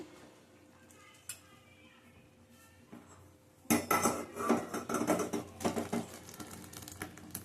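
Metal pot of cooked dal lifted off a gas stove, a quiet lead-in followed by a sudden run of loud clanking and scraping clatter of cookware, close and irregular.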